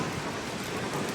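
Steady rain falls on a dark day in the UK, a dense, even hiss that holds without a break through a short moment and carries no voices.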